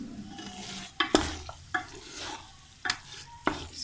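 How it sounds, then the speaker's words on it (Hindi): Ground keema frying in oil with ginger in a pan for dhaba-style aloo keema, with a steady sizzle broken by several sharp spoon scrapes and knocks as it is stirred, close and fairly loud. "और इसको भून लें अच्छे तरीके से।"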